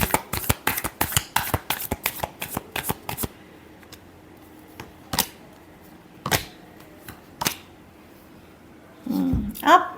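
A deck of tarot cards is riffled and shuffled by hand, a fast run of sharp flicking snaps at first, then a few sparse taps, and a brief voice at the very end.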